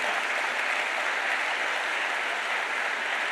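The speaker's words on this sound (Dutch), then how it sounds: "Geef het applaus aan de Heer." A church congregation applauds during a Sunday service, a dense, even wash of clapping filling the whole stretch without pause.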